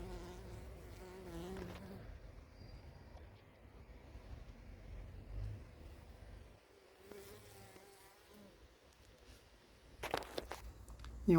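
Steady, soft buzzing of many honeybees close by at a hive in an apiary, a low insect hum with occasional faint rustles and knocks.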